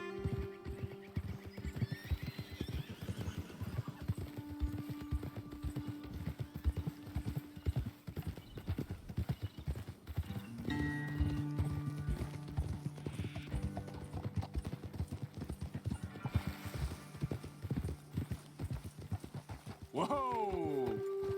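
Horses' hooves clip-clop steadily in the video game Red Dead Redemption 2, a continuous rhythmic patter under ambient game sounds, with a horse whinny and voices talking at moments.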